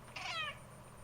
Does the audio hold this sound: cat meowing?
yes